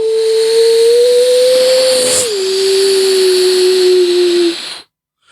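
A beatboxer's voice imitates a Formula 1 racing car, holding a steady, loud whining engine tone that dips briefly midway, then carries on and cuts off into silence.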